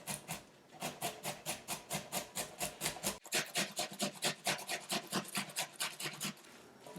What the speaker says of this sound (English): We're going to start with apple. Just make sure you don't grate the seeds into it.